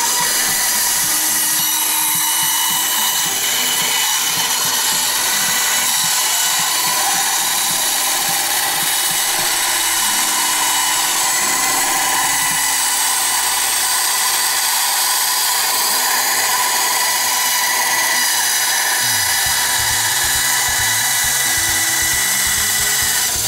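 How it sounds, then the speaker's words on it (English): Small bandsaw cutting a Nerf Longshot pump grip, a steady loud high-pitched whine with shifting tone as the blade works into tight corners, continuous with no talk. "Getting into these small corners right there might be more than my little bandsaw could do"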